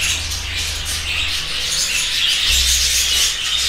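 Many budgerigars in a breeder's room chirping and twittering continuously, a dense busy chatter of bird calls with occasional wing flutters and a low steady hum underneath.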